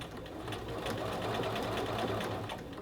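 A close sewing machine runs steadily, its fast rhythmic whir and needle ticking continuous throughout while stitching a collar band to a men's shirt at a 5/8-inch seam.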